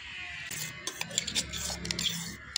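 A coarse, half-ground rice paste is scooped out of a mixer jar into a bowl, giving close, irregular scraping and light clinks of utensil on metal and dish over a few seconds, with no talk.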